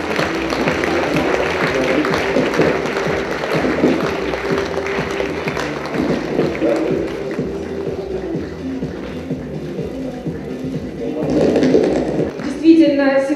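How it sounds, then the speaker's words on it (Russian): Applause from an audience at a large outdoor palace-square stage concert, a steady dense wash of clapping running throughout, with voices mixed in and the crowd noise swelling near the end. "Ваши аплодисменты, друзья!"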